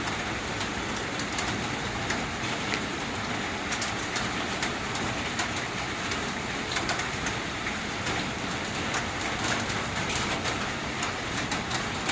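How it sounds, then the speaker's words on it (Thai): Steady rain hisses without a break, a dense even patter with faint scattered ticks on top. "ฝนตกนะครับ"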